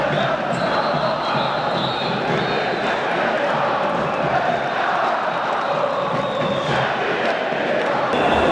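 Moroccan football fans roar and chant in a stadium during a Wydad match, a dense, loud wall of crowd noise that holds steady and unbroken throughout.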